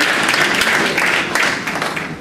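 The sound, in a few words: applause from an audience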